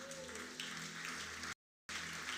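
A church congregation at a memorial service claps in a steady, fairly faint wash of applause, briefly cut by a gap of silence before resuming.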